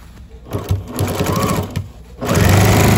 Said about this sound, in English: And just top stitch all the way around.